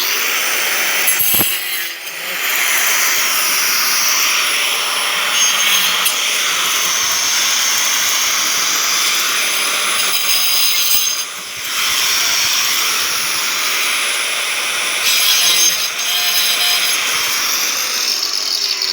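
An angle grinder whines continuously at high pitch, grinding loudly and close with brief dips in intensity, no voices.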